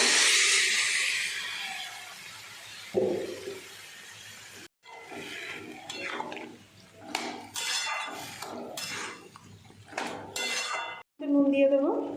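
Chopped banana flower tips into a pan of sizzling ginger, cumin and chilli paste, a hiss and clatter of utensils that settles into quieter stirring and scraping, close and fairly loud.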